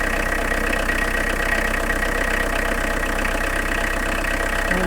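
A car engine idles steadily at close range during heater radiator bleeding, a constant low hum and rumble with no change in pace.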